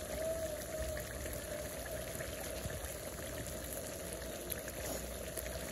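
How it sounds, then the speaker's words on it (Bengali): Water added to bottle gourd cooking in a pot, giving a steady close bubbling, spattering wash like rain on a surface that runs evenly throughout without pause. "তো আমি ভাবলাম একটু করে জল দিয়ে দিই, আবার লাউটাও সেদ্ধ হয়ে গেছে"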